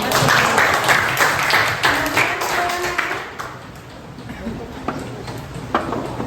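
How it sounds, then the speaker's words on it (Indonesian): A school class claps in a loose, uneven round that thins out over a few seconds, with scattered individual claps and voices talking underneath. "tepuk tangan buat kalian"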